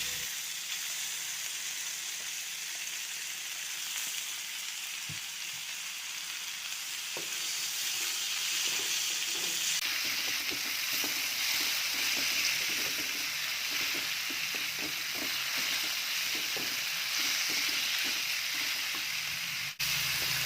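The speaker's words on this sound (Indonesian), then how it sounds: "Kemudian masukkan cabai rawit, tumis sebentar. Dan masukkan semua jamur kupingnya." Wood ear mushrooms and bird's eye chilies stir-fried in a hot pan, giving a steady loud sizzling hiss that runs throughout with soft stirring taps and scrapes growing busier in the second half.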